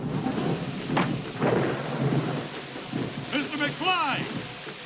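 Thunderstorm from Back to the Future II: rain hisses steadily while thunder rumbles and cracks several times, with voices speaking and brief whooshing effects layered over the downpour.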